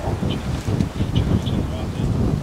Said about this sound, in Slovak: Dúfam, že ma počujete cez ten vietor, lebo brutal, jak tu začína fúkať